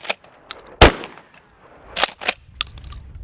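A Benelli SuperNova pump shotgun fires reduced recoil law enforcement rounds outdoors, several sharp, loud blasts spaced irregularly, with one dominant report followed by a pair of closer shots and fainter cracks between.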